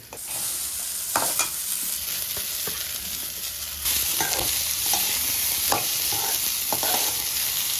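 Finely chopped snake gourd hits a hot pan and is stir-fried, making a loud, continuous sizzle that swells as the pieces go in, with repeated scraping of a spatula against the pan and no talking.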